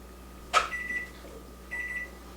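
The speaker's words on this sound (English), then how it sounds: "The timer's going off." A kitchen timer goes off while cookies bake in a home kitchen, with faint electronic beeps in two short bursts separated by a brief pause. A sharp click comes just before the first burst, and a quiet room hum sits underneath.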